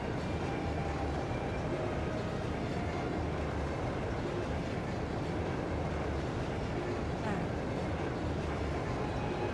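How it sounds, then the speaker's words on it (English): The RMP high-speed train Crusader rolls along in Trails of Cold Steel 2, a continuous dense rumble with clickety-clack rhythm, steady and loud throughout. "RMP high-speed train, the Crusader."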